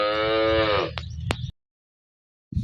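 A single long, loud cow moo close by at milking time, followed by a few clicks and rustling, then silence before a brief noise at the end.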